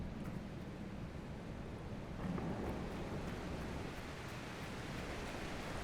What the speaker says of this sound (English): the groaning water in the background